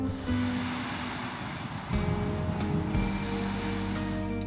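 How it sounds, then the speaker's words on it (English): Water laps steadily on the shore of Winding Bay at the Abaco Club in the Bahamas, a continuous washing surf with a swell around the midpoint and soft wind noise throughout. "With the sound of the water lapping on the shores of Winding Bay"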